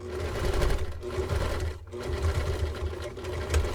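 A Kwik Sew sewing machine stitching fabric runs in steady bursts, its needle hum loud and close, with a brief pause near the middle before the stitching resumes.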